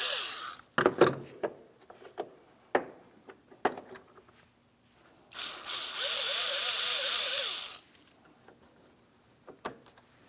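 A ratchet takes out 10mm bolts on a 2007-2014 Ford Edge front bumper cover, one sustained run of quick clicking in the middle, with scattered sharp knocks and taps before and after, close and moderately loud.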